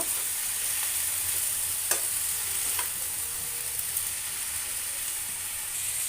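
Steady sizzling hiss of eggplant and small fish being sautéed and stirred with salt and turmeric for a Mymensingh-style curry, a continuous frying bed with a couple of faint utensil taps.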